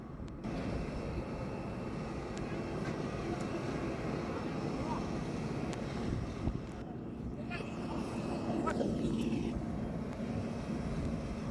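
A helicopter flies near an airport in Aizawl, its engine and rotor making a steady, broadband drone that holds at a fairly even level for several seconds, with faint voices talking under it.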